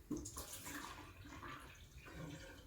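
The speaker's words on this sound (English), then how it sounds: "I'll dump out the hot water." Hot water is poured out of a mug next to a Breville Barista Express BES870 espresso machine. A short, close splash and trickle fills under three seconds at fairly low level.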